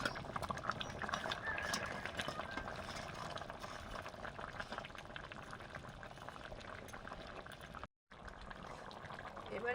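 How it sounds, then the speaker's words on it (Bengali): Fish curry broth bubbles at a steady boil in a pot, a continuous close, dense bubbling and simmering that runs nearly unbroken apart from one brief dropout. "ঝোল ফুটে গেছে এবারে মাছগুলো দিয়ে দিচ্ছি"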